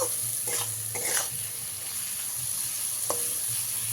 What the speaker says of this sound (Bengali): মশলাটাকে আমি দুই থেকে তিন মিনিট ভালো করে কষিয়ে নিয়েছি